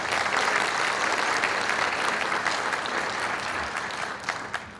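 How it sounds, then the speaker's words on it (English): An audience at a high school National Honor Society induction ceremony gives a full round of applause, steady and dense throughout, easing slightly toward the end. "Huge round of applause to the people behind the scenes."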